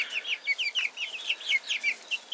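Chickens and roosters on a ranch cluck close by in a rapid, repeating run of short, bright calls, several birds overlapping with no talk.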